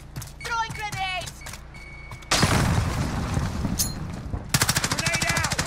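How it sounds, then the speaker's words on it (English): Grenade blasts in a combat video game, a loud explosive roar breaking in after an opening stretch of speech-like voice, followed by rapid rhythmic gunfire bursts, all close and dense. "Throwing grenades."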